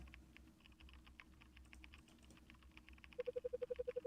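Rapid clicking keystrokes on a computer keyboard, soft and steady at first, then a short burst of sharper, evenly spaced clicks near the end, with no talking.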